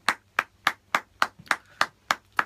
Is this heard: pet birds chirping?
no